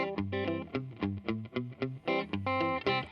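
Heavily distorted electric guitar through a cranked tube amp plays a rhythmic riff of short, punchy chords, gritty and saturated, with brief gaps between strums.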